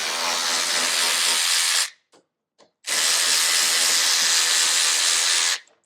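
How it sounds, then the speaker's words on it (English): Two long bursts of a power tool's steady, loud whine removing Torx bolts on a Polaris RZR 900, each about two seconds, separated by a brief pause with faint clicks. "You can take them off with the power tool"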